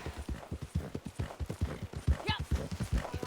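Horse hooves clip-clop at a steady walking rhythm in Red Dead Redemption 2, close and fairly loud, with a brief bright whinny-like tone near the middle.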